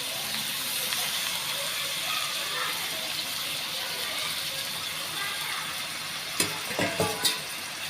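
Cleaned goat liver hitting an oily pan after ginger-garlic paste, giving a steady close sizzle and hiss with a few sharp stirring clatters near the end.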